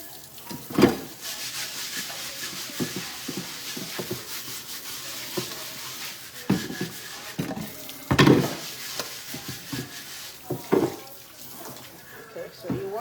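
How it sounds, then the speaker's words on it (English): Hot water runs from a kitchen tap to wash up during dinner prep, a steady hiss with scattered clatters and rubbing sounds while a person talks nearby. "Then now you're gonna run hot water in it to wash it."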